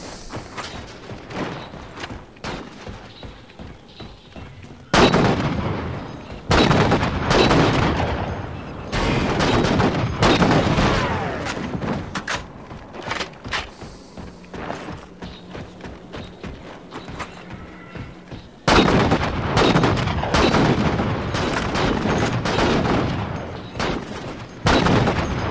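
Sniper rifle fire in a team sniper match in a video game, with infinite ammo and no other weapons: loud, sharp shots come in bursts, separated by quieter stretches of footsteps and game noise, and there is no talking.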